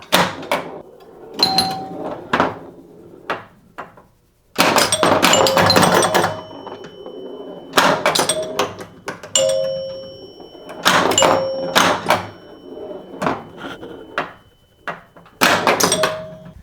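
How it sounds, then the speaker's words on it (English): A 1978 Gottlieb Sinbad solid-state pinball machine in play: the ball clacks against the flippers in sharp, bursty thunks, with bell-like chimes and rattles between quieter gaps. "let the ball bounce off of the flipper before you hit it"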